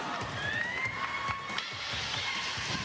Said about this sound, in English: Very loud applause for the hometown ladies